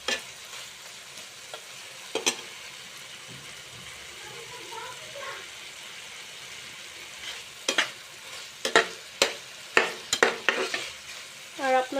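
Potato pieces fry in a pan for a fish, eggplant and tomato curry, with a low sizzle under a few scattered spatula scrapes that grow into quicker, louder stirring strokes toward the end.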